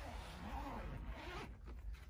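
A zipper on the side pocket of a roller bag is pulled in one quick, close run, then a few shorter tugs follow, quiet and without talk.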